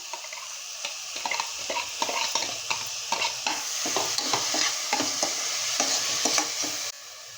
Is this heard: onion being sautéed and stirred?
yes